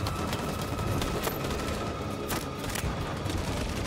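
A grenade explodes in the game Detroit: Become Human amid rapid gunfire, with several sharp booms rising out of loud, constant battle noise.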